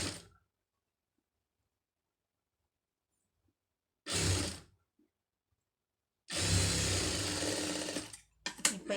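A tailoring sewing machine stitches two fabric layers of matching length, sounding in a short whirring burst and then a longer sustained run, close and loud with silence between.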